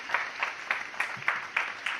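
Audience applause for competing school debate teams, a steady patter of many hands clapping at moderate distance with no voices over it.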